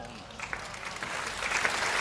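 An audience at a Hindi poetry recital applauds, a brief swell of clapping that grows louder over two seconds, with some voices under it.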